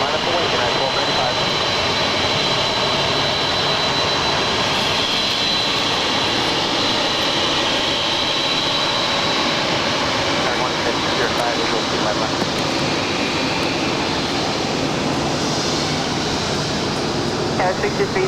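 A jet airliner takes off from runway 25 right at Los Angeles International Airport, its engine roar loud, broad and continuous throughout, with radio voices talking over it.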